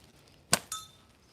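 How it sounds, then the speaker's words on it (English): A slingshot shot ricochets off a can and strikes a metal bell target: a sharp clink and then a second bright strike that leaves a short metallic ring, both close and crisp against a quiet background. "Off the can, hit the bell."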